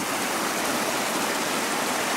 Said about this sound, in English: the creek running down the center